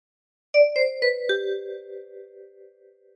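A 10-key kalimba plucks a short meme phrase: four bright, close tines struck in quick succession, their bell-like tones ringing out and slowly decaying over a few seconds.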